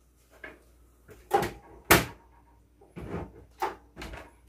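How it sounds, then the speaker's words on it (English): A Mr. Heater Buddy Flex portable heater is pulled and knocked over, giving a series of dull thumps and knocks, a few sharper than others, spaced irregularly over several seconds at moderate distance with no talking. "now we're going to go ahead and knock this thing over to see if it turns off"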